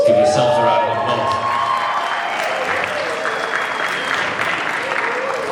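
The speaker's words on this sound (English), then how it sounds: "Give yourselves a round of applause." Loud, sustained applause with cheers and whoops from the graduating class of Redham House at their 2026 matric dance, a dense crowd clapping steadily that slowly eases off.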